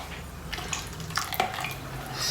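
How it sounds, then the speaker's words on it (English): Half a cup of water pours into carrot soup in a pot, a short watery splashing and trickling with a few clinks of utensils, close and moderately loud. "I'm going to add half a cup of water"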